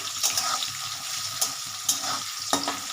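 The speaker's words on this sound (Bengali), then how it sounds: "মশলাটা ভালো করে আমি কষিয়ে নেব।" Spices and potato pieces fry in a pan of oil for Bengali ghugni, a steady close sizzle broken by several sharp scrapes and clacks of a spoon stirring against the pan.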